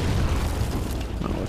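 Mortar shell explosion in Men of War, a loud, dense, rumbling boom that fills the whole short moment with no talking.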